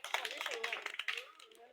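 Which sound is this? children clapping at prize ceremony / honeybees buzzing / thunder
children clapping at prize ceremony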